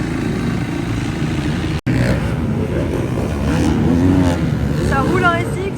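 Dirt bikes ride a supercross track, their engines droning and revving at a moderate distance with shifting pitch, while someone talks over the motor noise.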